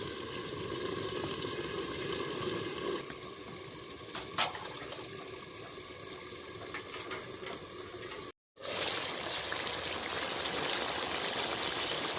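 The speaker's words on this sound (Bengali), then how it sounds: "এবার আমি দিয়ে দেব পরিমাণ মতো জল" Water pours steadily into a pot of simmering country duck meat, a continuous close splashing rush that stops briefly and then resumes.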